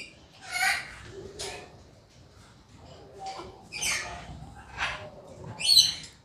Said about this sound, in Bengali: তো এখানে আমাদের সানকনিয়ার আছে